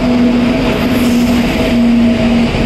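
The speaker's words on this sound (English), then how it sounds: "So this is a special train." A passenger train rumbling steadily nearby, with a sustained high tonal hum and wheel noise running throughout, loud and continuous.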